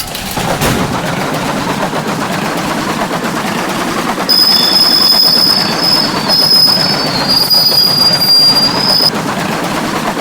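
A train rolls past in a Roblox video game, steady loud rumble and clatter with a bright metallic wheel squeal sustained through the middle stretch, no voices.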